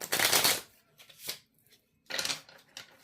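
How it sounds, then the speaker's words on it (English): Light Seers tarot cards being shuffled by hand: a long riffling burst, a couple of short flutters, then another riffle and a brief final flick, close and crisp with no voices. "I have already shuffled these, but I'm just feeling called to shuffle them again"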